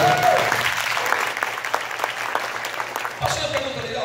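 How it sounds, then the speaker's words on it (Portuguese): Audience applause at a leadership training event, a steady wash of clapping from a crowd that fills the whole stretch, with a brief voice at the end. "uma salva de palmas para os nossos representantes"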